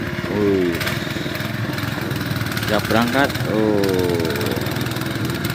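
Small boat engine running steadily on the Jatigede reservoir at Sagara Munjul, a continuous motor drone heard close up throughout, with people talking over it.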